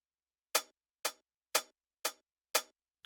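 Hi-hats from Addictive Drums, layered with a more aggressive hi-hat sample, tick out five crisp, bright, evenly spaced hits at half-second intervals, clean and isolated.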